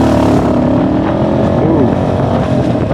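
Motorcycle ridden through city traffic near a volcano, a continuous close engine drone with shifting pitch and surrounding road noise, steady throughout.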